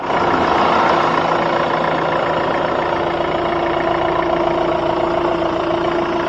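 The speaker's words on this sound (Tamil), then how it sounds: "வாங்க வண்டியோட இன்ஜின் சவுண்ட் எப்படி இருக்கு அப்படிங்கறத பார்ப்போம்" A Hyundai Creta's CRDI diesel engine idles throughout, a low droning rumble with a constant hum, close and unchanging, with no voices.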